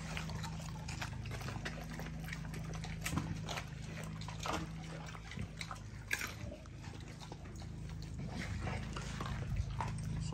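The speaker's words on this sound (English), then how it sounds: "As y'all know, Navy eat whole chickens, man." Pitbulls tearing into whole raw chickens, with wet chewing, crunching and biting over a steady low background, moderately close and fairly quiet, with faint voices now and then.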